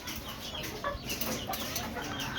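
A hen clucks in soft, scattered calls amid faint farmyard background noise, quiet and somewhat distant.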